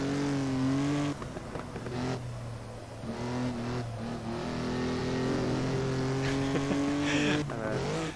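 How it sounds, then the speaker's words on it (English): Race car engine revving hard and climbing through the gears, pitch rising and dropping at each shift before a braking zone, loud and continuous from close by throughout. "Power kicks in nicely, reaching the top of the rev band just before the braking zone here."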